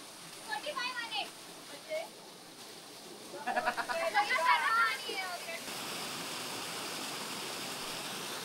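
Steady rushing roar of a hidden waterfall on a trek in Upper Kharghar, Navi Mumbai, filling the second half, with scattered voices and animal-like bleats earlier.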